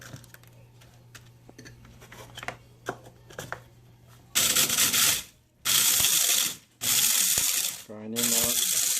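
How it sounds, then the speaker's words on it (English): An electric grinder whirs loudly through hot peppers in repeated bursts of about a second each, with brief pauses between them, following quieter handling and clicking sounds at the start. "we're going to grind them up"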